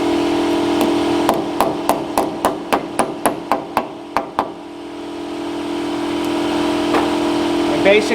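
A tool hammers a wheel weight onto a wheel rim with about a dozen sharp, evenly spaced metallic taps, over a steady background hum.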